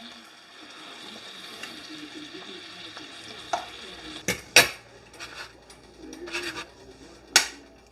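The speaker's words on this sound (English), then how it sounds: "what you're just doing here is sweating them down in olive oil" Peppers sweat and sizzle in olive oil in a pan, a steady low hiss broken by several sharp clanks and scrapes of the pan and utensil, close up with no talk.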